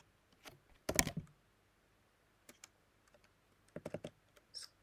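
Typing code on a computer keyboard, close and quiet, with scattered key clicks, one brief louder burst and a quick run of taps, no talk.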